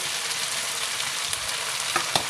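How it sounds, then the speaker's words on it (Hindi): Cauliflower curry with chopped coriander and green chillies fries in a pan with a steady close hiss and sizzle, plus a couple of faint stirring clicks near the end. "एक दो मिनट के लिए फिर से भून लेते हैं।"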